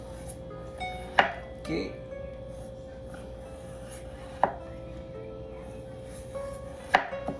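A knife slices food on a board, giving a few sharp, spaced chops over a faint background hum, with a short spoken word in between.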